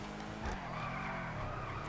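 An expensive Nero supercar drifting in the video game GTA 5 Online gives off a continuous, fairly faint tire squeal and skid over its engine note, steady from start to finish.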